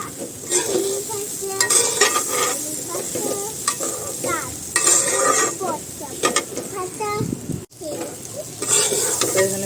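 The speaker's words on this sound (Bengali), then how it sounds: "এখন ভালো মতো ভাজব লাস্টে দেবো চিনি আর একটু ঘি" Rice frying in a pan for a Radha Ashtami offering crackles and sizzles continuously, with repeated scraping stirring strokes close up. People talk over the cooking, and there is one brief cutout near the end.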